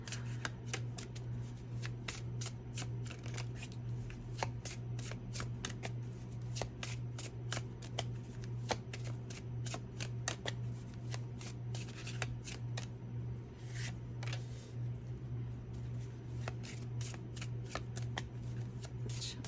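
Tarot cards are shuffled by hand in a quiet room, a continuous run of quick riffling flutters and soft card snaps, close and steady over a low hum.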